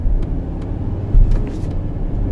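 A 2020 Ford Endeavour 3.2 with six-speed automatic, in sports mode, accelerating as a steady low engine rumble and road roar, with a brief heavier surge partway through.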